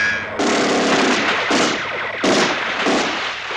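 Loud, booming gunshots from a cult Canadian exploitation movie, three or four heavy blasts with long rumbling tails in quick succession, no talking.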